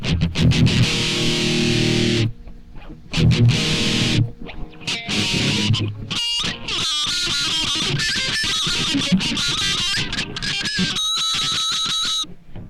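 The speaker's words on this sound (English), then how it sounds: "I put it in some sort of, I'm not sure what kind of distortion this is, because I forgot to bring the manual for this effects" Electric guitar artificial harmonics played through a distortion effects unit, giving loud, bright ringing chimes in bursts with short gaps, then sustained squealing overtones toward the end.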